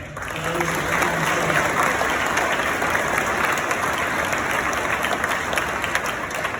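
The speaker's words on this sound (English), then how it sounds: "One big round of applause again." Crowd at a school choice rally in Odessa, Texas applauds after young children sing, a loud, steady wash of many hands clapping for several seconds.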